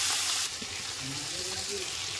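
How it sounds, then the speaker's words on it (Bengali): Prawns hit hot oil in a pan, setting off a loud, steady sizzle that swells after an initial hiss and carries on with soft bubbling and stirring, close by. "এবার আমি চিংড়ি মাছগুলোকে দিয়ে দিলাম।"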